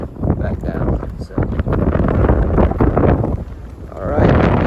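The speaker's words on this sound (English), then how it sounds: "very windy through this part of the canyon" Strong wind gusting through the Grand Canyon on the hiking trail, rumbling steadily and loudly against the microphone with brief lulls, a voice talking intermittently underneath.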